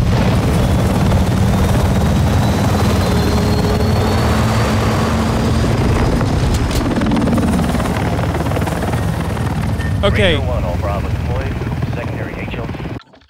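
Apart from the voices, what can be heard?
helicopter flying in Call of Duty Modern Warfare II video game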